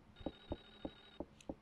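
Telephone ringing in the horror video game Clock Tower: The First Fear, a quiet electronic ring pulsing five times at an even rhythm, with no voices over it.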